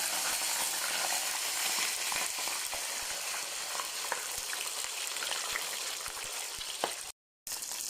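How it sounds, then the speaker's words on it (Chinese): Steady, dense sizzling of fish frying in hot oil over low heat, close and continuous, with scattered pops and crackles and a brief cut near the end. "油热下锅，放鱼，关小火"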